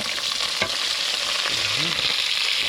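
Garlic and onion fry in hot oil with a constant loud crackling sizzle, broken by an occasional clink of a spoon stirring in the pan.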